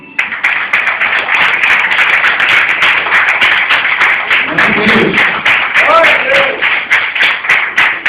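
A church congregation applauding, dense steady clapping that fills the space throughout, loud and close, with a voice and some singing faintly mixed in underneath.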